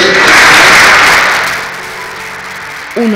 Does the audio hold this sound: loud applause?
yes